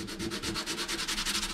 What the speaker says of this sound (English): A little more sanding, I should say.